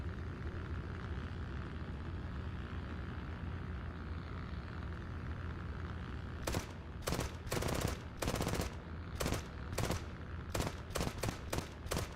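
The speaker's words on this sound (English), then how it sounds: "What a chattering machine gun." A War Thunder machine gun chatters in repeated short, rapid bursts through the second half, loud and close over a steady engine drone.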